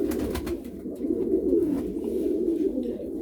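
Breeding pigeons, a parent pair with a newly hatched chick, coo in low, rolling, overlapping calls close by, a steady murmuring chorus with faint clicks and no speech.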